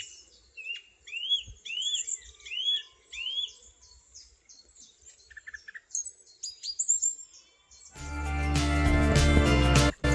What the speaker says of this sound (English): my own personal serenade from a song thrush, chiff-chaff and robin